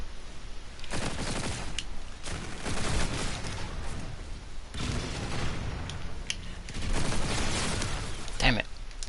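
Bursts of gunfire in a shooter game, several clustered volleys of rapid shots separated by brief gaps, loud and close, with a sharp louder crack near the end and some speech mixed in.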